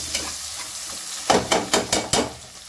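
Food frying in a pan: a low background sizzle, then a quick series of five sharp, evenly spaced scrapes or taps of a utensil against the pan, close and clear.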